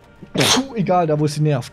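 One close, sudden sneeze bursts out loudly, and a person starts talking right after it.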